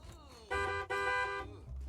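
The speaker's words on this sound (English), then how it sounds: "Car horns. I hear you." Car horns honking in The Sims 3, two loud sustained toots back to back with a short gap between them, then a low rumble at the end.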